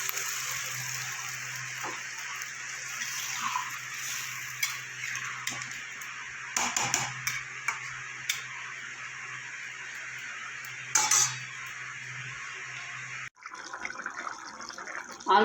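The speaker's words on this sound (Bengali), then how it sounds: "এবার আমি জল দিয়ে দেবো" Water poured into a pan of simmering potato egg curry, a steady faint trickle and fill running for several seconds, with a few soft clinks and a brief stop near the end.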